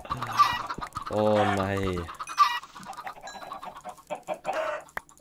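Chickens in the Minecraft video game cluck repeatedly, with a person speaking briefly among the clucking.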